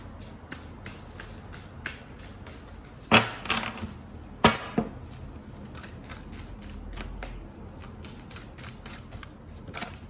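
Tarot cards shuffled repeatedly in quick riffling strokes, with two louder bursts of flicking cards midway and a continuous soft shuffling rhythm throughout.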